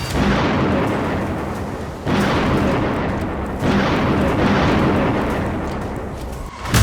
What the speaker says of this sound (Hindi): बमबारी शुरू हो चुकी है।